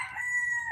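A rooster crows in one steady, sustained call lasting under a second, close and clear, with faint low farmyard rumble underneath.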